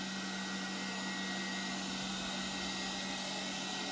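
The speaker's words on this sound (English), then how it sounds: "This is a loud vacuum when it's revved all the way up." A Lefant M320 robot vacuum runs at maximum suction, a loud continuous broadband whoosh with a steady hum, unchanging and close throughout.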